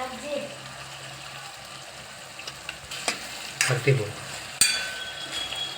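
An onion dish with yogurt being stirred in a pan, with quiet sizzling and frying hiss broken by scraping stirring strokes that grow louder and busier toward the end.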